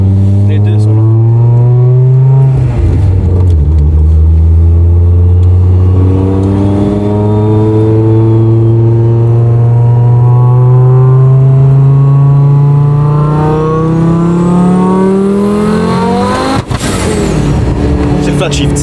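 A McLaren race car engine revs hard and flat-shifts. Its loud, close, sustained roar climbs steadily in pitch through the gears, with a sharp shift break near the end, and voices talk over it.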